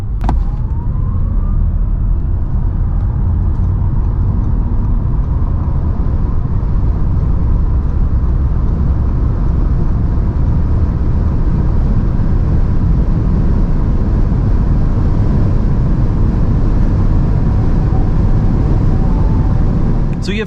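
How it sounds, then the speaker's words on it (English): An Audi e-tron GT electric car accelerates hard from 100 to 200 km/h on the Autobahn, heard from inside as a steady loud roar of wind and road noise with no talk. "So let's now see how fast the car goes 100 to 200."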